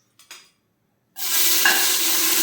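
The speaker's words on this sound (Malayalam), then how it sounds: "ഞാൻ എണ്ണ ചൂടായിട്ടുണ്ട്, അതിലേക്ക് ഇട്ട് കൊടുക്കുവാണ്. നന്നായിട്ടൊന്ന് ഇളക്കി കൊടുക്കാം." Ginger, garlic and green chilies drop into hot oil for beef biriyani after a couple of soft taps. A loud, bright sizzle bursts up and holds steady as they are stirred, close and with no voices.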